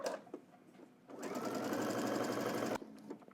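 A sewing machine runs in a steady, close burst of about two seconds while stitching a jumpsuit, with a few short clicks of handling before and after and no speech.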